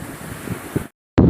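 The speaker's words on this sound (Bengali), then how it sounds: "তো এখন এই মুহূর্তে খুব কম পরিমাণ জল বেরোচ্ছে আপনারা দেখতে পাচ্ছেন এবং আওয়াজ আশা করি কিছুটা হলেও শুনতে পাচ্ছেন" Water pours at low volume through a gate of the Mukutmanipur dam, a steady broad rushing roar that is loud and close, breaking off into silence for a moment before a sudden loud burst.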